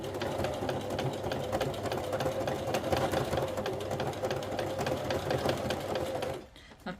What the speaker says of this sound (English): Let's go mini zigzag, and let's try and sew it in a circle.